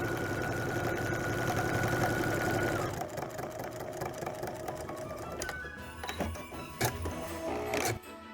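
A sewing machine stitching fabric for a quilt block runs steadily with a fast mechanical whir, then slows into uneven stitching with a few clicks, no talking.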